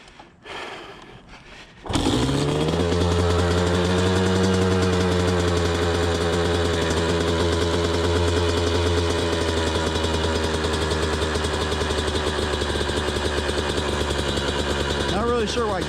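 A 1990 Kawasaki KDX200 two-stroke dirt bike, an old barn find, catches after a few quiet attempts and settles into a loud, steady, buzzing idle close by, with a brief voice near the start.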